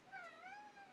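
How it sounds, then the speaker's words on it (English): Willow, a pet cat, lets out a single drawn-out meow with a rising then gently falling pitch, close by and clear, lasting about a second with no talking over it. "That's the cat."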